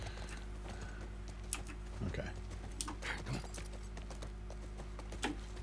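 Hooves clip-clop irregularly as a horse moves through a game world in The Last of Us, a few soft thuds and clatters over a steady low hum, with a brief spoken word.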